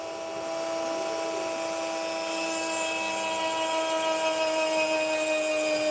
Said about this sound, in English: this little hole is going very deep into the opal